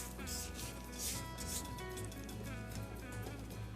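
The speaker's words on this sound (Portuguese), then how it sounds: "Vou limpar as laterais do bowl da batedeira." A spatula scrapes the sides of a stand mixer bowl holding creamed almond and pistachio biscottini dough, a soft, quiet rubbing that continues steadily over faint background music.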